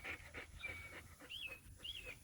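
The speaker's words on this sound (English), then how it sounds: "There's my other dog." A pet dog pants close by in a home, with rapid breathy bursts coming in quick succession, along with a few high whimpery tones.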